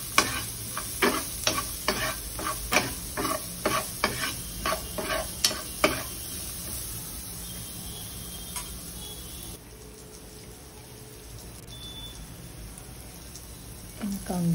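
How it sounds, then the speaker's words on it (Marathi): Carrots and salad vegetables stir-fried in oil over a high flame, with a regular scraping of the spatula at first, then a softer steady sizzle once the stirring stops. "सॅलड आहे ते पण तेलावर हाय फ्लेमवर परतून घ्यायचं। प्रथम मी गाजर टाकलं"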